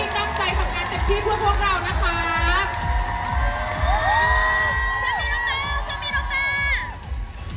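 A concert crowd in Bangkok cheers, whoops and applauds for the staff at a show, loud and continuous, with high shouts and screams rising above the roar throughout.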